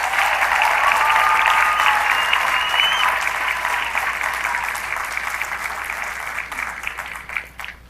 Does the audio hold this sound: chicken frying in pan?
no